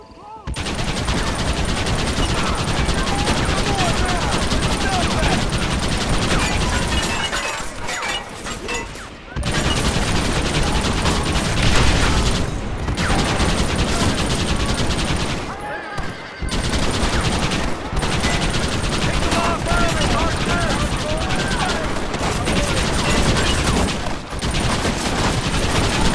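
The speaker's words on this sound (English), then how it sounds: "I was shooting them, damn it." Sustained Wild West game gunfire from Red Dead Redemption, dense repeated shots rattling almost continuously at close range, broken by a few brief pauses.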